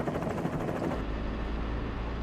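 A helicopter flies with a Vietnam War truck convoy, a loud continuous rotor and engine roar whose tone shifts and settles into a steadier low rumble partway through, with no voices.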